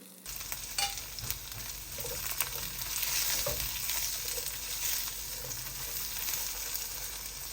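Onions frying and sizzling in a pan while being stirred, a steady close hiss with occasional scrapes and clinks, cooked until lightly browned, with no talking.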